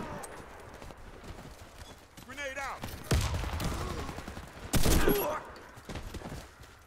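Bursts of gunfire in a Chernobyl-themed video game, with several sharp shots and loud volleys alongside hoofbeat-like clatter and a horse neigh, fairly quiet overall.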